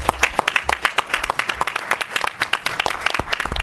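A small group at a village board meeting claps in a quick, irregular patter of sharp hand claps, close and lively, with no voices.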